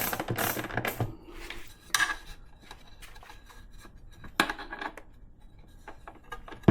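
Hand tools tighten bolts on a top case mount fitted to a Kawasaki KLR650 motorcycle: close, irregular metallic ratchet clicks and small clinks of tools on metal, louder in short clusters near the start and again midway.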